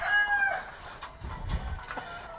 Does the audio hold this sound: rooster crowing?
yes